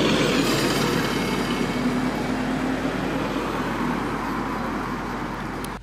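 A London double-decker bus on route K4 passes through Norbiton, its engine a steady broadband rumble with a faint whine, loud and close at first and easing slightly as it moves on along the road.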